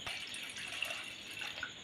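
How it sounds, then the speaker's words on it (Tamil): Steady running water pours in a continuous stream with a soft hiss into a pot of milk, close by and fairly quiet, with no voices. "கால் லிட்டர் அளவு தண்ணி ஊற்ற போகிறேன்"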